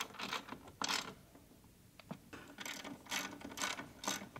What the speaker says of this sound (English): I'm going to tighten down the bolts